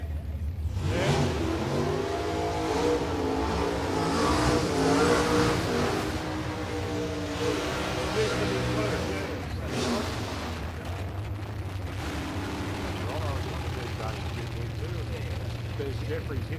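Race cars accelerating at a south coast test and tune meet, a Chevrolet Camaro and a big utility, their engines droning and revving steadily for the whole stretch while a commentator talks over them.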